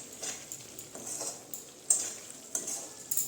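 Chicken cooked down with poppy seed and mustard gives a soft, steady sizzle in a pan, with occasional spoon scrapes and clinks against the metal.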